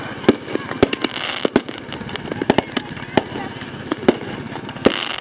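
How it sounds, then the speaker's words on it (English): Fireworks bursting over a small Alaskan town just after midnight on New Year's, with sharp loud bangs and crackles scattered irregularly throughout over a continuous background rumble. "At this point, fireworks are firing over the graveyard as well, here in the city."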